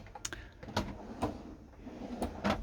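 A wide drawer in a Burstner Lineo C590 six-metre campervan opens or closes, giving a few soft clunks and sliding knocks close by at low level.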